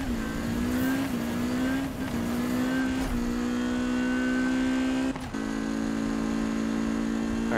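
Hennessey Venom GT in Need for Speed 2015 revving during a burnout, a loud sustained engine drone with shifting pitch and brief dips, no talk.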